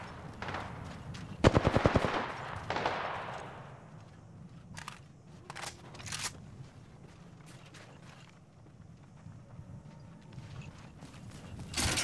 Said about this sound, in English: Shooting some long guns